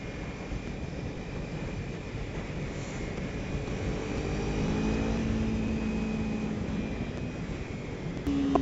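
A Kawasaki Ninja 300 motorcycle engine revs hard and climbs toward 10,000 rpm, a steady rising drone with wind rush, heard up close from the rider's position during a road test.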